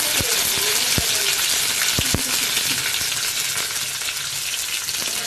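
Curry leaves frying in hot oil for Palakkad chicken kuruma, a steady close sizzle and crackle with a few sharp pops and clinks of a utensil against the pan early on.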